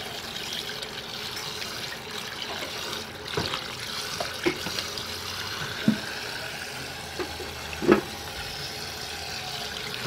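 Running water from a kitchen tap splashes steadily over beef skin being washed, a continuous trickling hiss broken by a few brief clunks and knocks.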